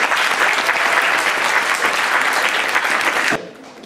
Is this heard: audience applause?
yes